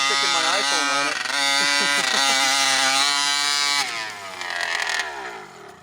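An 80cc gas engine in an RC monster truck running at half throttle, heard as a loud, steady buzzing whine that rises and falls in pitch as it revs, then drops lower near the end.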